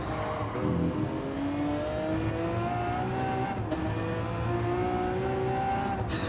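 A race car in Gran Turismo 7 accelerates hard, its engine note climbing steadily through the gears with brief dips at the shifts, loud and close throughout.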